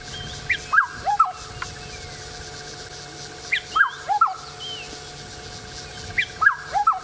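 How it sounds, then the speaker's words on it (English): A black-headed oriole calls in clear, liquid whistled phrases, repeated three times at a steady interval of a few seconds, carrying over a quiet background hum. "This is a black-headed oriole."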